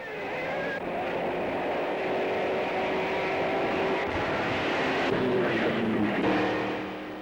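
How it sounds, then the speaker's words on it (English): 1930s German Grand Prix racing cars, including an Auto Union, roar past in a continuous, loud engine drone that holds steady for the whole stretch with slight swells in pitch, and no voices are heard. "The sight and sound of the new German cars was awe-inspiring"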